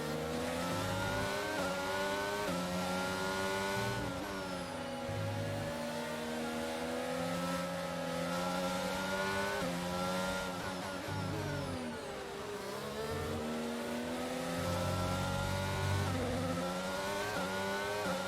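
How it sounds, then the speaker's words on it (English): Formula 1 cars racing in the F1 22 video game at Bahrain, a steady, loud layered whine of high-revving engines with pitch sweeps as cars accelerate and shift, continuous throughout with no talk. "And there's only 3 cars left to lap for a second time, which is again the 2 Red Bulls and Carlos Sainz"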